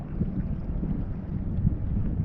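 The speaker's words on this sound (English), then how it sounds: "That wind is starting to just freshen behind me just a little" Wind buffets a microphone on a small boat at sea while squid fishing. It makes a steady, loud low rumble with gusty surges and no talking.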